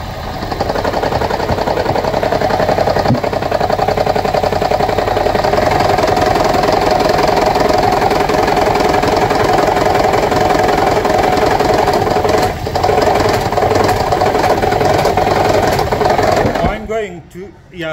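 A 2009 Toyota Prius 1.5 hybrid engine with a misfire and low compression runs loud and close, with a constant rattling, knocking drone and uneven vibration that cuts out at the end.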